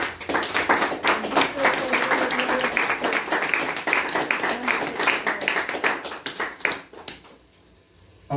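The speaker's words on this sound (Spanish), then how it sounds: "Den una ofrenda de palmas al Señor." A church congregation claps hands together in a fast, steady rhythm, loud and full for several seconds with voices mixed in, before the clapping fades to near silence.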